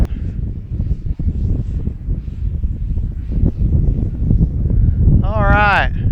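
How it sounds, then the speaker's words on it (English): Gusty wind buffets the microphone at an RC airfield during a Freewing Vulcan 6S jet flight, a loud steady rumble running throughout under a voice, with a brief whistling tone near the end. "Kind of windy."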